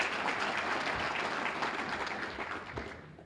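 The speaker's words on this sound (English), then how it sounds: "one more round of applause for her." At an awards ceremony, a round of audience applause rises quickly, holds as a dense patter, then fades out near the end; quiet overall.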